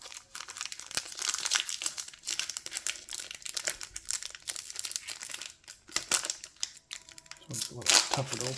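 Tearing open a Lord of the Rings TCG Fellowship of the Ring booster pack: close, crinkly foil-wrapper crumpling and ripping in bursts, with talk mixed in.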